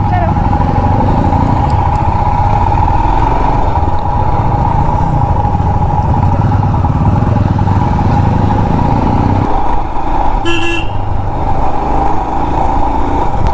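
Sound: new motorcycle riding on service road

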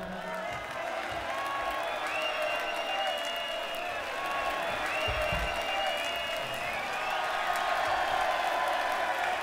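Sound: live concert crowd applause

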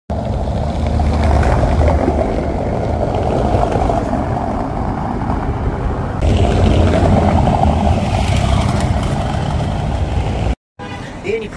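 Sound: car tyres rumbling on cobbled streets in Prague

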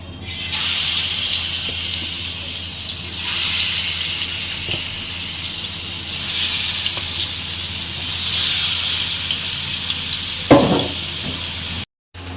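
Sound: fish frying in a pan

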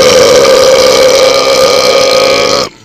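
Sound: three-second belch

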